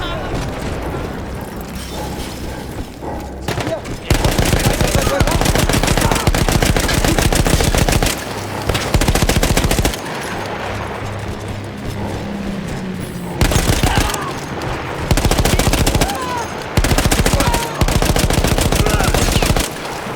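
A machine gun fires in bursts in Battlefield 1, with loud rapid rattling volleys separated by short pauses and booming impacts, over a background of game noise.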